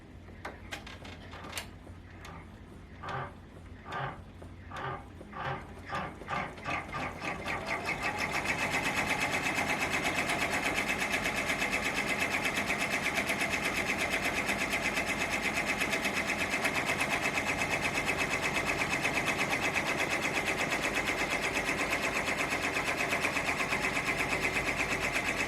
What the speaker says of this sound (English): All of the stitching that is required is done.